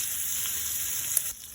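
Prawns frying plainly in a pan without any semolina or rice flour coating, a steady broadband sizzle that holds evenly and close, then drops slightly near the end, with no voices.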